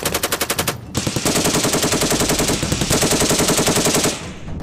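M240 general-purpose machine gun, a US-built FN MAG, firing a short burst, a pause, then a long rapid burst of sharp, evenly spaced, loud shots with no talk.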